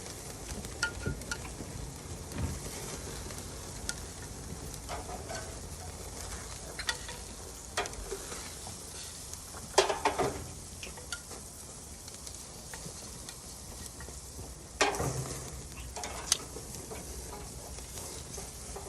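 Grilled lamb chop lollipops keep sizzling after coming off direct heat on a smoky grill, a steady soft crackle with scattered pops and faint clicks, fairly quiet and close, with no voices.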